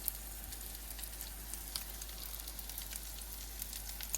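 Crab cakes fry in a pan with a soft, continuous sizzle and scattered small pops and crackles, close and fairly quiet, with no one speaking.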